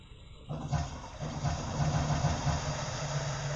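A toilet flushes nearby in a bathroom, a steady loud rush of water that swells and keeps roaring for several seconds with no talk over it.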